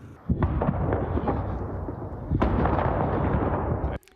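Heavy, continuous rumbling explosions and booms amid ruined buildings in Vuhledar, Ukraine, roll on for several seconds, with a sharp loud onset and a second surge partway through, then cut off.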